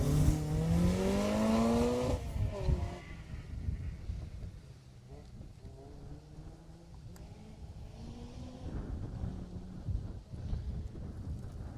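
A rally car on a Jersey Rally 2018 stage roars past loud and close, its engine note sweeping down as it goes, then fades into wind buffeting and distant engine drone.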